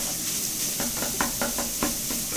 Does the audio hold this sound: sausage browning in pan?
yes